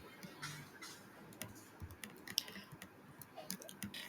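Code is typed on a computer keyboard, giving quiet, irregular key clicks and taps close by over a low background hiss, with no talking.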